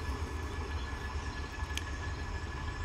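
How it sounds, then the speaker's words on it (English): A southbound Norfolk Southern freight train rolls past, a steady low rumble and rail noise at moderate distance with no distinct peaks. "we've got a southbound Norfolk Southern train going by"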